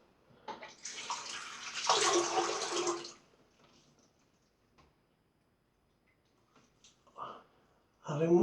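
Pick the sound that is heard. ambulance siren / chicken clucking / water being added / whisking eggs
water being added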